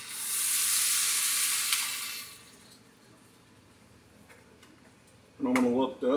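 Hamburger helper ingredients sizzle in a pan, a bright hissing fry for the first couple of seconds that fades to a quiet simmer, then a short burst of louder sound near the end.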